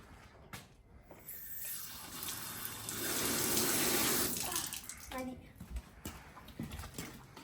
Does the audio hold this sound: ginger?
no